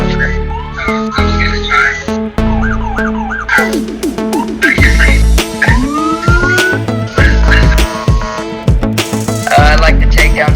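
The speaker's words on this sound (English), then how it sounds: "I love the sirens on the thing." Police car sirens in a video game, loud wailing and rising tones layered with game music and effects throughout, with talk mixed in.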